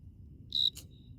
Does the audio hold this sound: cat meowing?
no